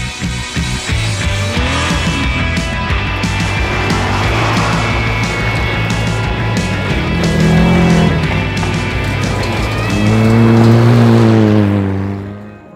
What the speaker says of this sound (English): pull the handbrake, let it slide down to second gear for the exit.